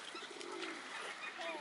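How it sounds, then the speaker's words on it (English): Pigeons coo softly amid a steady outdoor waterside bird-park din, with faint chirps and distant voices mixed in. "So we've got some beautiful pigeons here."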